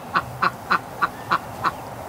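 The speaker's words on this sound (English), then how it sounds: "Poor marble duck." A Muscovy duck quacking six times in a steady, evenly spaced run of short, sharp, nasal calls, close and clear over faint background noise.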